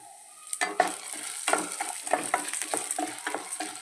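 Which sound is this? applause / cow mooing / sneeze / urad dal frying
urad dal frying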